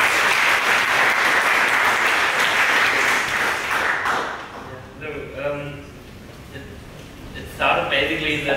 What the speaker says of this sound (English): So please give a big round of applause to Felix and Alexander Couzens.